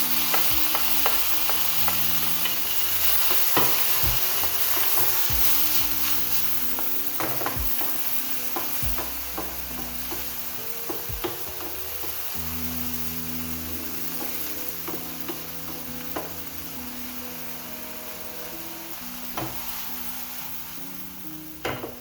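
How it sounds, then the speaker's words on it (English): Garlic and tomatoes fry in a pan, a steady close sizzle broken by repeated scraping and clacking strokes of a spoon stirring, with no one speaking. "I'll add in my garlic. I'm also going to go in with my tomatoes."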